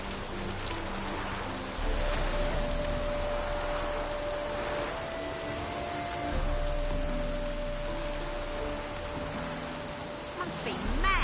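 Steady rain pours down in The Witcher 3, a constant hiss of drops on surfaces throughout, with a low tonal hum and muffled game voices faintly beneath the downpour.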